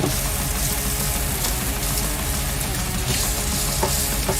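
Dehydrated vegan meat frying and browning in a pan, a loud, dense, continuous sizzle close up, with occasional soft stirring knocks and no voices.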